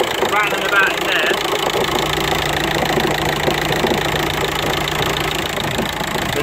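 A car engine runs at idle with a busy rattling, knocking clatter from inside, steady and close, while someone talks briefly over it.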